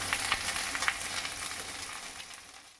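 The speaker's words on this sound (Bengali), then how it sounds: "একটু নেড়ে দিই।" Small dried fish frying in a pan being stirred, a close sizzle with a few quick scrapes and clicks of the spatula, fading slightly toward the end.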